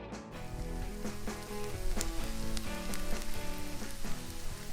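Freshly crushed garlic fries in a pan for a paneer chilli dish, giving a steady, close, crackling sizzle with dense popping throughout.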